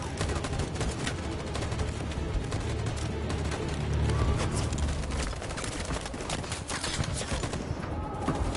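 Dense volley of gunfire in Detroit: Become Human, a continuous rattle of many overlapping shots lasting several seconds.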